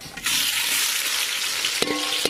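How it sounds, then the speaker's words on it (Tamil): Sliced onions hit hot oil already holding cinnamon and cloves, bursting into a loud, steady sizzle that fills the whole moment, with a brief clatter of a utensil near the end. "வெங்காயத்தை சேர்த்துக்கலாம்"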